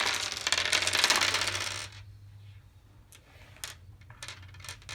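Dice rolled behind player screens during a game of Godfather: A New Don, a loud rattling burst followed by a few sharp clicks as they settle.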